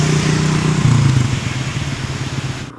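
A motorcycle engine idles and rumbles close by on a solo road ride, steady and fairly loud, with a low throbbing pitch that dips slightly before cutting off abruptly at the end.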